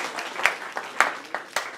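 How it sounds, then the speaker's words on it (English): A small audience at a lecture gathering gives scattered applause: a handful of distinct, fairly close claps over a soft patter, brief and sparse. "Let's give them a round of applause as well."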